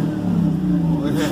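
Rumbling Cadillac engine fitted with a new MSD ignition, a loud, steady low growl that rises slightly near the end, close by with a voice talking over it.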